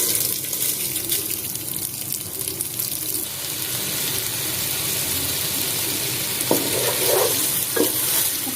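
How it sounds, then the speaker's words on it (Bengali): Rice grains frying and being stirred with toasted spices in a pot for Bangladeshi chicken polao, a steady close hiss and scraping with a few sharper clinks of the spoon near the end. "এখন আমি চালগুলো ভালোভাবে ভেজে নেব।"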